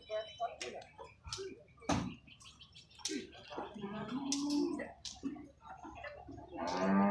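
Cattle at a cattle market in San Sai, Chiang Mai: a few low moos rise out of busy market bustle with clicks, knocks and people talking nearby, a louder bellow near the end.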